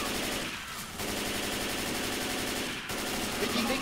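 Rapid automatic gunfire from the Left 4 Dead 2 video game rattles on almost without a break, loud and dense, with only brief pauses between long bursts.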